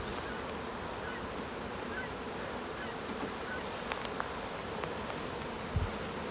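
Honey bees swarming around a beehive outdoors, just after the hive sent out two swarms in one day: a dense continuous buzzing drone, with occasional louder passes and faint handling knocks, no talking.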